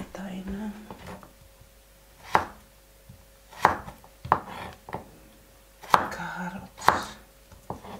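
A knife chops carrots on a board in a kitchen, giving about seven sharp, irregular strikes that stand out clearly over a quiet background with faint murmuring.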